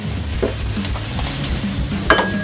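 Sautéed onions being scraped and stirred from a pan into a bowl, with soft utensil scrapes and a brief metallic clink near the end over a low background sizzle.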